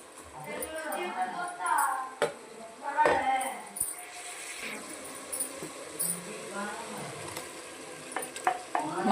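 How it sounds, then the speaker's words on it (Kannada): Masala fries in oil in a home kitchen pan for pulao, giving a crackling sizzle with intermittent stirring scrapes and clinks, while a person talks over it. "ಮಸಾಲ ಸ್ವಲ್ಪ ಹಾಕ್ಬಿಟ್ಟು ಎಣ್ಣೆ ಬಿಡೋವರೆಗೂ ಸ್ವಲ್ಪ ಹುರ್ಕೊಳ್ಬೇಕು"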